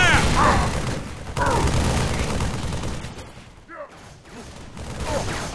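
A Halo 3 firefight in the Sierra 117 campaign mission: loud, sustained automatic gunfire and booming shots keep going, with shouting voices cutting in over the din.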